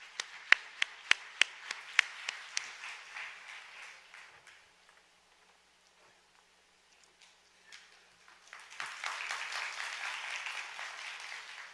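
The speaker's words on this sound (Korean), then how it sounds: "교수님을 뜨거운 박수로 맞아주시기" Audience at a Seoul education forum welcoming a visiting professor: a few sharp isolated claps at first, a quiet lull, then a fuller burst of steady applause rising toward the end.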